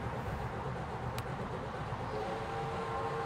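A sensor-triggered train beside a mini golf course rumbles steadily nearby, with a faint horn-like tone entering toward the end and no talking.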